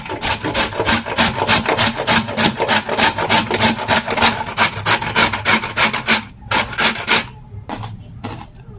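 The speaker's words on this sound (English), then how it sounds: "I'm going to go ahead and use this coarse part of my grater to grate it" A peeled carrot rasps rapidly against the coarse side of a metal grater, a loud, close, steady run of rhythmic scraping strokes that thins into a few separate strokes at the end.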